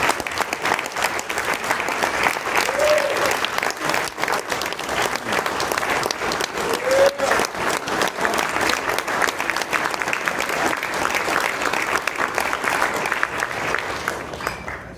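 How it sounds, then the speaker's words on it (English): An audience at a reunion evening program claps continuously, a dense, even wash of applause held steady for the whole stretch with a faint voice or two in the crowd. "Please give another big round of applause to Johnny and Heidi, Kelsey, Eric, and Brett Gillum"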